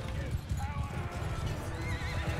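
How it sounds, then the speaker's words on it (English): Battle sounds from the medieval video game Bannerlord, with horses whinnying and hooves clopping in a constant, dense din, a high neigh rising briefly above it and a voice talking over the top. "A couple horses."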